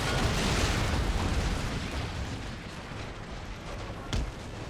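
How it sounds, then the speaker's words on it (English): Cannon fire in Empire Total War rumbles as a dense, continuous barrage of distant booms, loud at first and easing slightly, with one sharper crack near the end. "all the cannon fire that's coming in there"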